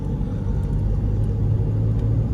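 A Mahindra XUV500 cruises at about 40 km/h in third gear, its engine a steady low rumble with road noise, even and unbroken, with no talking.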